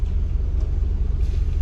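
A car engine idles with a steady, close low rumble that holds evenly throughout, with no voices over it.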